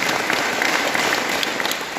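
A crowd of devotees at a village religious gathering for a Basava Purana recital breaks into loud applause, a thick, sustained wash of many clapping hands filling the whole stretch.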